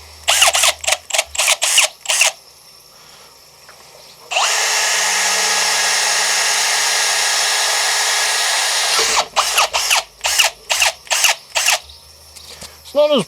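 A Milwaukee power drill whirs in one steady burst of about five seconds, loud and close, with a person talking just before and after it.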